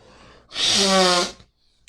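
A single loud sneeze, with a sharp breathy buildup bursting into a forceful nasal blast, followed by quiet.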